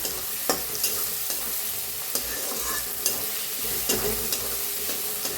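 Onion and tomato sizzle in a pan with repeated spoon scrapes and stirs, a steady frying hiss punctuated by sharp clinks every second or so.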